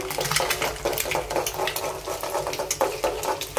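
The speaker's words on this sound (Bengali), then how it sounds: "আমি ডিমটা আগে দিয়ে দিছি, এটা অন্য পদ্ধতি করে ভাজবো।" Egg frying in a pan, cooked alongside water spinach with onion to follow in a home kitchen; a steady close crackling sizzle of hot oil runs throughout with no talking.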